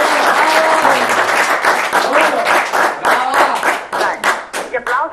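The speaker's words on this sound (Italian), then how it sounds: "Gli applausi facciamoli a noi stessi" An audience at an Italian political youth TV debate on immigration claps loudly, a dense burst that thins into scattered individual claps toward the end.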